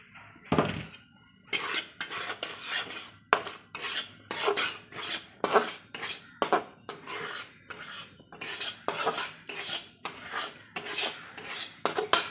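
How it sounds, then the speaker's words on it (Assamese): Semolina (suji) is dry-roasted in a pan and stirred with a metal spoon, a series of close, regular scraping strokes against the pan with brief gaps between them. "চুজিখিনি ভাজি লৈ আছোঁ।"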